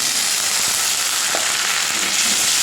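Chopped tomatoes go into a pan of frying onions, giving a loud, continuous sizzle with a few soft stirring knocks underneath.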